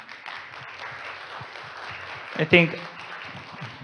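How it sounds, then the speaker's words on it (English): A conference audience at the ISSM 2022 symposium finishes applauding Professor Mamoru, a soft, fading patter of clapping that continues faintly beneath a speaker's voice, with a brief louder bump partway through. "Please give a big round of applause for Professor Mamoru again."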